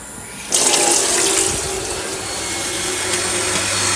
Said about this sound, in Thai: ดี๋ยวผมจะลองเปิดน้ำดูนะครับ